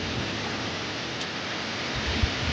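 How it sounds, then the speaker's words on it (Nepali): Rain falls outdoors in a village setting, a steady broadband hiss at moderate volume with a soft thump near the end. "पानी परेको छ"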